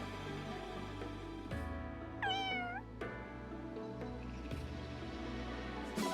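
A single cartoonish meow from a grass cat in Fire Emblem Engage rises and falls over a steady bed of video game music and background sounds.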